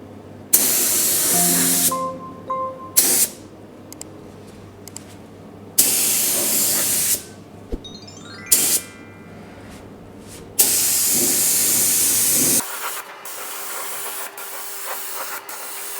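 A spray gun sprays epoxy primer onto a bare-metal GTO brace in several long hissing bursts separated by pauses, loud and close, ending with quieter mechanical background noise.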